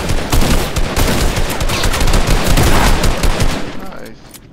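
Rapid, loud automatic gunfire in an online shooter game rattles almost continuously for about four seconds, dense bursts of shots stacked together before tapering off at the end.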